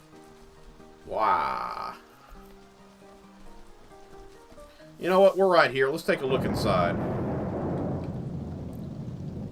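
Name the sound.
rain and thunder in the video game Staxel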